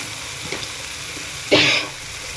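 Tomatoes and salt dropped onto frying green chillies in a pan for bhendi bhaji, a steady low sizzle with a sudden loud hiss burst midway that settles back to gentle frying.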